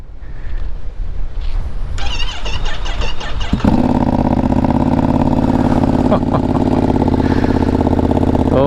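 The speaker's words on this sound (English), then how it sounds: "the way that this exhaust sounds brings this bike to life" A 2025 Ducati Panigale V2 fires up outdoors on a windy day, a starter clatter giving way to a loud, close, lumpy idle through the exhaust with throttle blips.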